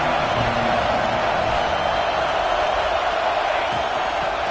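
Broad, steady stadium crowd roar from a college football video game, a constant dense wash of cheering noise with no clear breaks, loud and continuous throughout.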